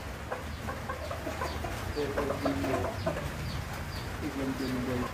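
A Sweater Gilmore gamefowl rooster gives soft, scattered clucks at close range amid farmyard noise, with quiet talk in the background.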